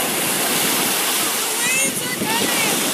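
Surf at a New Jersey beach in Monmouth during a wind and sea festival, with waves washing in as a broad, loud hiss and roar, and faint whistling tones above it.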